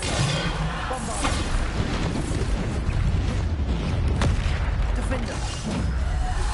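Bombarda spell blasts in Hogwarts Legacy gameplay, a steady barrage of booming, crashing impacts layered over busy game sound with no clear gaps.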